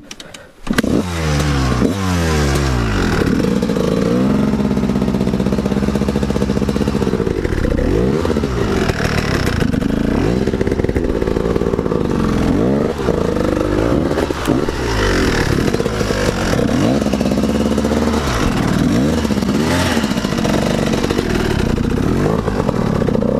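A motorbike is walked alongside and started, then revved repeatedly in loud rising and falling bursts with a rough, clattering idle between, close by and nearly alone with almost no talk.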